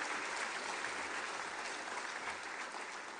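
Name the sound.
audience applauding at convocation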